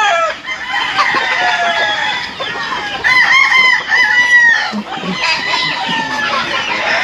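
A rooster crows repeatedly and chickens cluck nearby, loud and close, with overlapping calls and some faint background voices.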